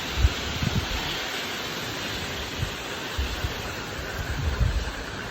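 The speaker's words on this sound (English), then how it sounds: "Yeah, it's pretty windy." Strong hurricane wind (Hurricane Ian) roaring steadily, with low buffeting gusts thumping against the microphone at irregular intervals and no one speaking.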